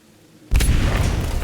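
A C4 charge goes off in the video game Aliens: Dark Descent to blast a way in: one sudden, loud, deep boom after a moment of quiet, rumbling on for about a second.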